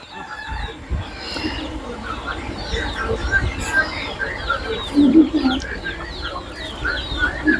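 Native country chickens on a poultry farm cluck and call throughout, with scattered crows and chirps near and far over a steady background hum.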